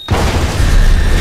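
A placed explosive charge detonating in a crematorium in Hitman Absolution: a sudden, very loud, deep boom that swells into a sustained rumbling roar filling the whole moment.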